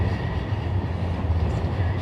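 A train passes close by at Ueno Station in Tokyo, a steady low rumble of wheels and carriages rolling through without a break, loud and continuous.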